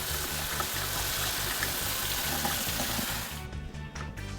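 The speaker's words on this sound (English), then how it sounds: "first we'll need to rinse off our perlite to reduce any dust or debris and also to add a little hydration." Steady rush of tap water pouring over perlite in a colander, a dense close spray that holds for about three seconds before cutting off into a few faint drips.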